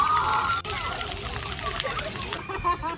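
Water splashing and sloshing at a children's splash pad, a steady busy wash of spray with scattered splatters, children's voices faintly in the mix.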